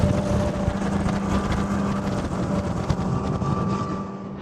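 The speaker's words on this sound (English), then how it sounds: "That wind is mad loud." Loud, steady wind rush roars over the microphone alongside a low droning engine hum, recorded while driving a supercar on the road.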